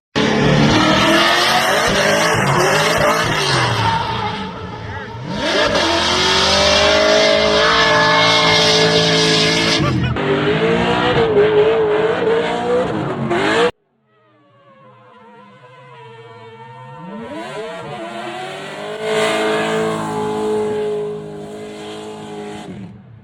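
A drift car running a big backie entry contest screeches its tires in long, loud squeals with engine roar, cutting off abruptly partway through, then a second car's skid rises again from quieter to loud.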